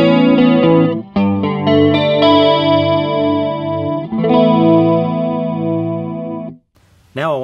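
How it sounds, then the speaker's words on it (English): An electric guitar plays chords through a BOSS MS-3 chorus effect, notes shimmering, wavering and swirling, loud and close, ending with a brief pitch sweep. "you'll hear that the chorus comes in."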